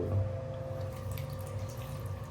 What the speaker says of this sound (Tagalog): Tapos kung may natirang tubig, ay itatapon.